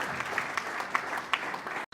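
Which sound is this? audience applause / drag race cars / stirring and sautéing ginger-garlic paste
audience applause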